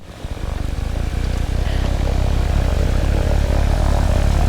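A powered hang glider's propeller engine drones loud and close as the aircraft comes in to land over North Shore Oahu, a steady buzzing roar with a pulsing beat that gradually grows fuller.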